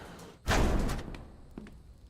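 A door in a survival video game slams shut with one loud thud, then a softer knock follows; no speech is heard.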